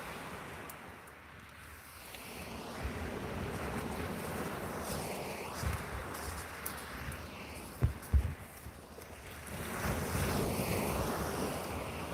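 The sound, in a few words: big waves crashing onto a beach shore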